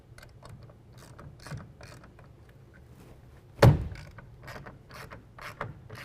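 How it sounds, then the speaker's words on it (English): A ratchet tightens a clamp on an UnderCover Ultra Flex tonneau cover on a 2017 Dodge Ram pickup, giving a run of soft clicking pawl ticks and one louder thunk midway over a low background hum. "Once I've got that clamp where I want it, I'm going to tighten this clamp down."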